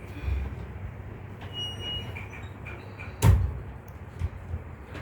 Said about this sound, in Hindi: दरवाज़ा बंद कर दिया।